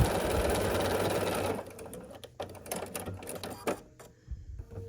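A sewing machine stitches a quilt block with a quarter-inch seam in a steady continuous whir for about a second and a half, then stops, leaving scattered small clicks and handling noises.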